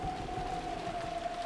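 Steady rain in the Umineko video game, a continuous even hiss of falling water with a faint sustained tone running through it, with no speech.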